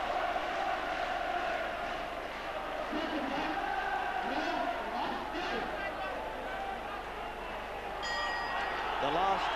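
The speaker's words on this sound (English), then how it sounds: "But this crowd still urging Clinton on." A boxing crowd roars on Pat Clinton during a WBO world flyweight title bout against Isidro Perez, a continuous dense murmur and cheering beneath a commentator's voice.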